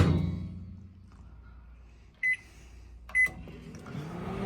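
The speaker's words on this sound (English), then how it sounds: "Sometimes we gotta use a microwave." A microwave oven heats cheese and bacon tots, its low steady hum running throughout, broken by two short, bright beeps near the end.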